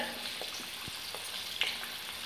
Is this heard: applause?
no